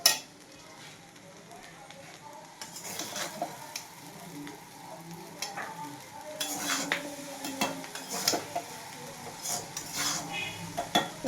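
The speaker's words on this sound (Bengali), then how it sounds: "দেখো এই যে নাড়াচাড়া করছি।" Sugar paste is stirred in a pan with a spoon, giving soft scraping and light metallic clinks over a faint sizzle, fairly quiet and close, with occasional louder clatters.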